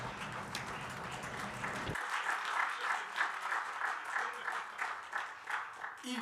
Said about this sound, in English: let's have a big hand of applause,